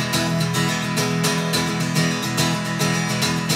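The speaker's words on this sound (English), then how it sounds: "You could do a 16th note pattern with an open chord and accent those." An acoustic guitar rings an open chord in a steady sixteenth-note strumming pattern with accents, a free range groove of quick, even strokes repeating alone and close up.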